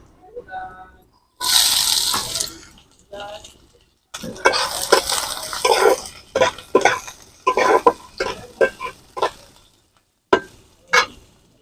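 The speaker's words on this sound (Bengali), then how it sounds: "তেল গরম হয়ে গেছে এবার দিয়ে দেব এখানে আমি পেঁয়াজ কুচি" Two medium onions, finely chopped, tipped into hot oil in a pan: a sudden loud hissing sizzle bursts out, then a stretch of uneven frying crackle broken by stirring scrapes and short pauses.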